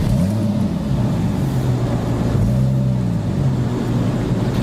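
A hot Porsche 997 GTS with a SCART valve exhaust, valves closed, idles with a steady, loud, deep burble and a slight swell in engine note partway through, with no speech over it.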